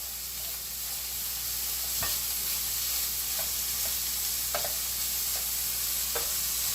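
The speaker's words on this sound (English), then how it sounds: "what I'm doing is I'm mixing the shit around, making sure all the bacon separates" Bacon frying in a pan under a constant bright sizzle while being stirred to separate the pieces, with several scattered scraping clicks from the utensil.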